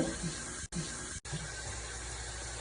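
Water runs from a tap into a kitchen sink being filled for washing canning green beans, a steady rushing splash near and moderate in level, with two brief cuts in the flow.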